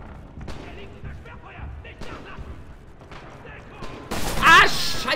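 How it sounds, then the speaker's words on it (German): Gunfire and tank shelling around a house in the Rising Storm video game, scattered sharp bangs and distant reports under talk, ending with a loud, dense burst of explosive noise. "Alles neblig, überall knallt. Und ich glaube, der Panzer bebombert das Haus hier."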